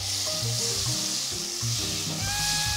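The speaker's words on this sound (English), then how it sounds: "I've got 2 tablespoons of butter. I'm gonna go ahead and put those into the pan or pot-ish thing." Two tablespoons of butter sizzle loudly and steadily in a hot pot, a dense close crackling hiss with no voices.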